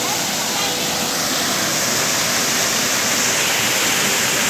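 A tall waterfall at Sítio Macapá in Araruna, Paraíba, roaring as a loud, unbroken rush of water that fills the whole clip.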